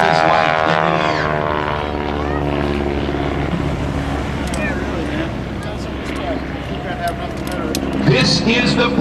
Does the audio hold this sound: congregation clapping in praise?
no